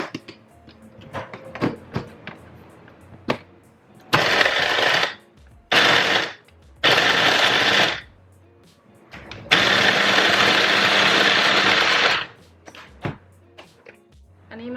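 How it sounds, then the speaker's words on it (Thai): An electric kitchen blender switching on in loud bursts of whirring between quieter pauses with faint clicks and handling sounds, close by. "จะปั่นเครื่องก่อนนะคะ"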